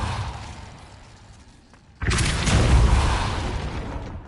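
A Repulso spell is cast in the video game Hogwarts Legacy, starting as a faint low rumble and then bursting into a loud, broad whooshing blast halfway through that roars on to the end, close and with no talk.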